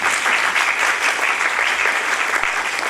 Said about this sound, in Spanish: Quisiera que le diéramos un aplauso a nuestra querida maestra.